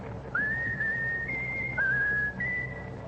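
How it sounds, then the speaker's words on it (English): A lone whistler carries the melody of My Country 'Tis of Thee in clear, steady sustained notes, close and distinct with no talking. "Now whistle my country tis of thee, Raffles."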